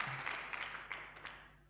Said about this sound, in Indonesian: Tepuk tangan buat Tuhan dong.